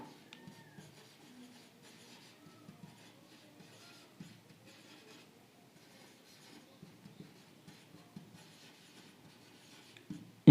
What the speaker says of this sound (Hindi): इसको मैं क्या लिख रहा हूं